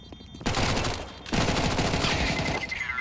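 Rapid bursts of gunfire from a Mac-10 and a P2K pistol in Counter-Strike on the Overpass map, two dense stretches of automatic fire split by a short pause, loud and close, with a faint voice beneath.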